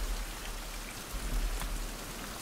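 Steady rain in the survival game Fountain of Youth, a dense continuous patter of drops on surfaces with no voices, even and fairly loud throughout.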